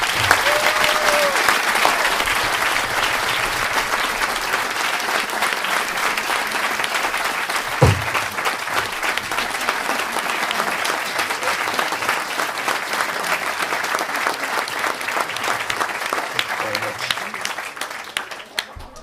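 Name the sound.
round of applause at a family award ceremony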